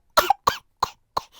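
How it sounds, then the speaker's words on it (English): Four separate coughs in quick succession, close and fairly loud, with short silent gaps between them. "I've just had a coughing fit."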